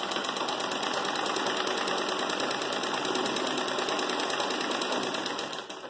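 A sewing machine runs continuously at high speed doing free-hand Turkish stitch embroidery, a close, steady rapid whirring and clatter that slows at the very end.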